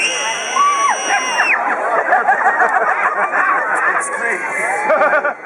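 Voice imitating a princess screaming in a told story: a loud, shrill, high scream at first, then breaking into laughter and excited chatter from several people.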